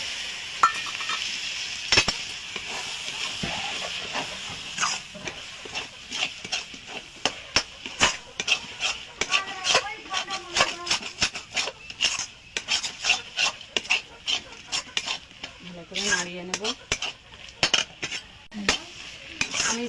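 A rice flour and water mixture is stirred in a pan, giving a steady run of close scraping and rubbing strokes, with frequent short clinks of the spoon against the pan and no talking.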